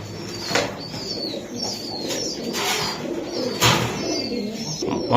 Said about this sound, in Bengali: আরো কটা কবুতর আছে একটু দেখাই দেই